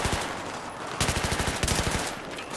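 A large gun in Battlefield 3 fires in rapid automatic bursts, loud and close, with sharp repeated cracks that break off briefly and then resume.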